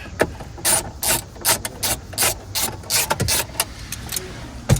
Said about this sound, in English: So there's a stud and a nut just there. So we'll just undo that.